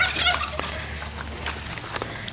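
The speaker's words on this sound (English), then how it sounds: "I hear turkeys." Several turkeys gobble in short bursts at a middle distance on a farm, their calls rising over a steady outdoor background hum.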